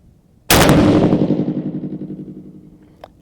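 A single loud rifle shot fired at a home shooting range during re-zeroing, a sharp crack followed by a long rolling echo that fades over about two and a half seconds.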